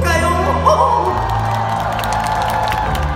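A crowd at a Korean tribute concert cheers, whoops and claps. Sustained musical tones ring underneath, and the lively noise stays fairly loud throughout.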